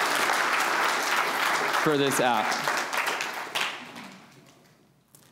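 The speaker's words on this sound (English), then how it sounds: "So a round of applause for all of our developers, partners," A conference crowd applauds developers and partners, dense clapping filling the room loudly before tapering off and fading toward the end, with a voice briefly speaking over it.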